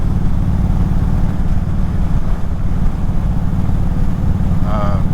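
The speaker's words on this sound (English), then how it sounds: "stage 1 air intake and exhaust. Sounds real good." An Indian Springfield motorcycle with a stage 1 air intake and exhaust idles with a steady, deep, loud rumble throughout, heard close up and alone.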